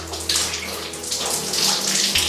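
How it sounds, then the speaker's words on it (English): Water runs steadily from a tap as hair is wetted after a hair transplant, a continuous close splashing hiss with shifting spatter as the flow hits the head. "I'm just gonna get some water. I'm just gonna wet my hair all through."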